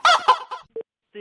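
A rooster crowing sound effect from a Mirchi Murga radio prank show: a short, fairly loud burst of fowl-like calls, then brief honking tones alone in the quiet.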